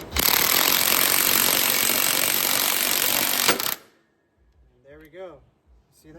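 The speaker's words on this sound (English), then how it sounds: "we got our ball joint remover tool in place, and we're gonna go ahead and hit the bottom part with a 19 mil" A ball joint remover tool driven with a 19 mm wrench on a car's suspension knuckle makes a loud, steady grinding rasp for several seconds that ends in a sudden sharp pop, followed by quiet with someone talking nearby.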